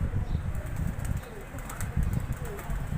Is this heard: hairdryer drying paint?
no